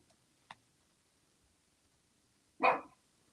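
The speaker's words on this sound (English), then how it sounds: "If you're wondering what that barking is, that is Baby the French Bully." A single short, sharp French bulldog bark rings out after a faint click, otherwise near silence.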